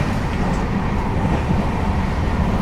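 The Shiv Ganga superfast express, train 12559 from Banaras to New Delhi, rumbles along steadily, with a dense, continuous roar of wheels and carriages heard from inside the train.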